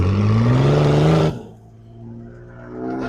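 Vehicle engine straining at high revs while yanking a stuck truck out of deep holes with a kinetic recovery rope, rising loud whine that cuts off sharply, followed by lower idling rumble.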